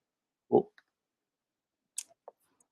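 A computer mouse clicked while working in scheduling software, heard as a few faint, isolated ticks in an otherwise quiet room, with one brief louder thump near the start.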